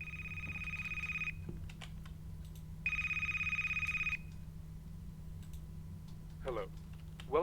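A telephone in the video game A Place, Forbidden rings in two electronic trilling bursts about a second long each, separated by a pause, over a low background hum.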